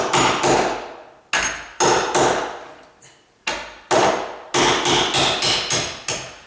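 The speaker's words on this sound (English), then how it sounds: "Now, my nail set, run your hammers flat," A hammer taps a steel nail set during hinge work in a condo rehab. About a dozen sharp, close metallic strikes come in uneven groups with short pauses, ending in a quick run of blows, and no one talks.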